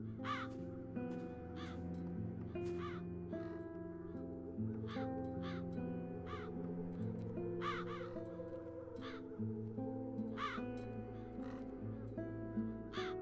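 Crows caw repeatedly in the video game The Dark Eye: Chains of Satinav, harsh calls coming in irregular clusters over a low, steady ambient music bed that continues throughout.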